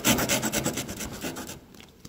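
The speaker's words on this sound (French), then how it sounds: "Elle est pas bien, cette scie?" A Roxon KS2 hand saw cuts through wood in quick rasping back-and-forth strokes, about a dozen close, loud pulls before the cut eases off and stops.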